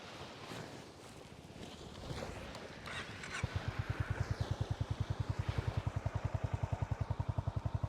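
A Honda CB350 H'ness motorcycle's exhaust thumps loud and close in a steady, rapid single-cylinder beat after about three seconds of wind and faint background noise, with no talk over it.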